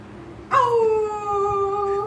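A dog lets out a single long howl that starts abruptly and holds steady with a slowly falling pitch, clear and fairly close against a quiet background.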